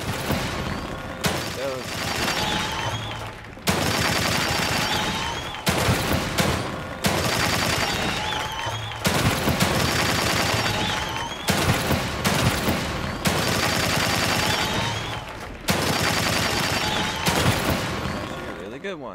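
Gunfire in the video game The Evil Within 2 comes as repeated loud bursts and booms separated by brief gaps, with a voice speaking over the shooting.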